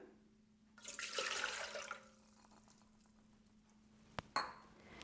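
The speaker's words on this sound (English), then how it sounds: "The first ingredient into our pan for the bagels is the water." Water poured into a bread machine pan for making bagels, a brief gushing stream lasting about a second, followed by quiet and a couple of sharp metallic clinks of the pan or a spoon.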